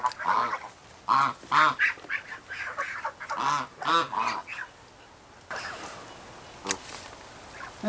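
Goslings honk and squawk in a busy cluster of loud, close calls that come in quick bursts, then thin out into scuffling movement and a lone call toward the end.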